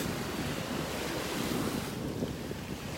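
Surf breaks on the Gulf beach at North Naples, Florida, with the water rough and churned up after storms: a steady, loud roar of waves mixed with wind buffeting the microphone throughout, and no talking.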